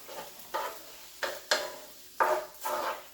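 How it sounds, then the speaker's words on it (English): Leftover stir fry with soy sauce stirred in a pan, a series of short scraping, sizzling strokes in an uneven rhythm, close and fairly quiet. "Stir that around really good."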